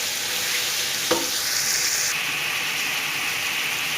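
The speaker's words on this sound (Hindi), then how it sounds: "चिकन का कलर चेंज होने तक हम इसको अच्छी तरह भूनेंगे ऑयल और प्याज और अदरक लहसुन में" Chicken frying in oil with onion, ginger and garlic gives a steady, close, hissing sizzle that holds throughout, with one brief stir or clink partway through and no talking.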